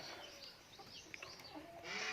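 Chickens cluck in short, soft bursts at close range, with a little rustling and farmyard noise in the background.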